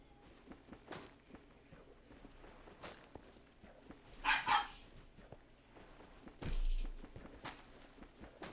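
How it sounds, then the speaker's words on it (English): Puppies barking rowdily in the background, faint and distant, with a couple of short yipping bursts around the middle over low room noise and soft footsteps. "Puppies are sounding a little rowdy in the background there."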